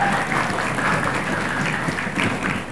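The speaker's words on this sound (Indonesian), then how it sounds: "Tepuk tangan sekali lagi buat Dewan Dewan Juri." Applause for the judging panel at a high school quick-answer quiz competition in Palembang: a crowd in a hall claps in a steady, moderately loud burst of just under three seconds, with no voices over it.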